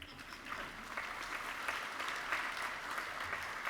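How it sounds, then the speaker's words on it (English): Audience applauding at a nursing white coat ceremony, a steady wash of many hands clapping at moderate distance, fairly even throughout with no voices standing out. "Give a round of applause for pearls"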